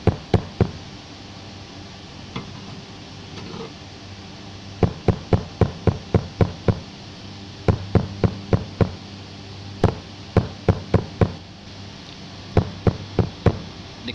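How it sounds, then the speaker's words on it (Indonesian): A hammer taps a car battery terminal, padded with a rag, down into place on the battery post: groups of sharp, close knocks in quick bursts of three to six, separated by short pauses, alone with no talk. "Dilapisin majun, kemudian baru diketok-ketok sampai benar-benar masuk."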